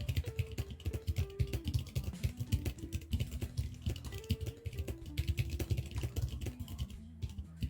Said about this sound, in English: I'm about to do a quick typing test, but with my hands completely crossed